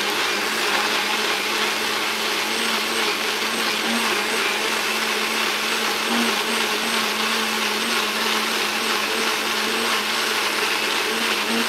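A blender runs continuously at full speed, giving a loud, steady motor whine and churning roar with a constant hum underneath and no pauses.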